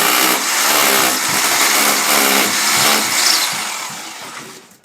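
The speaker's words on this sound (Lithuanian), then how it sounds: "Šitą reikia ant lūbų gręžt." A power drill bores into a ceiling, a loud continuous whirring grind that runs steadily for several seconds, then winds down and fades at the end.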